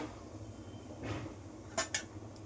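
Bay leaves and cumin seeds frying in a pan for a Bengali rice and pointed gourd dish, with a low steady sizzle and a couple of sharp metal spoon clinks against the pan near the end.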